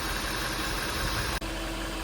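A Jaguar XJ VDP engine idles smoothly and steadily after a misfire repair, a continuous even hum with a brief dip partway through and no talking.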